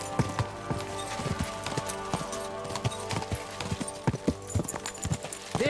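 Horse hooves clip-clop steadily in the medieval game Kingdom Come Deliverance 2, the rhythmic strikes close and clear over a layered bed of ambient music and background tones.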